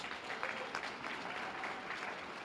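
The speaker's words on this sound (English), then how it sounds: "please give her a round of applause." An event audience gives a round of applause for the photographer taking guests' photos, a short steady patter of clapping heard from some distance at moderate level.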